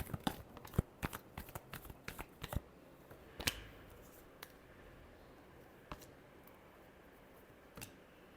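Tarot cards being shuffled by hand, with a quick run of crisp riffling snaps at the start, then sparser soft card taps and slides, faint and close.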